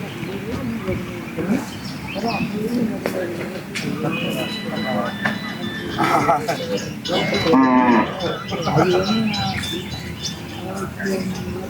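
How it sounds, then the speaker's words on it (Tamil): Cattle moo repeatedly at a native cattle market in Palayakottai, several loud, drawn-out calls from close by, with birds chirping and people talking in the background throughout. "ஒரு பத்து மாடுகள் தான் இந்த வாரம் இருக்கு"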